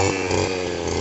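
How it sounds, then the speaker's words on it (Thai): A small two-stroke engine drones loudly and steadily at high revs, a brush cutter running close by with no voices over it. "เสียงนี่ เสียงเครื่องแน่นมาก"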